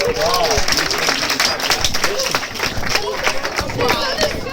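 Audience applause at a grad night hypnotism show, a loud, steady wash of clapping mixed with crowd chatter and voices throughout.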